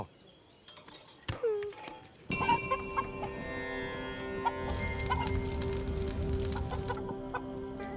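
Domestic chickens and a rooster clucking close by in a rural yard, a sharp squawk early on followed by steady overlapping clucks and a faint clink, with no speech.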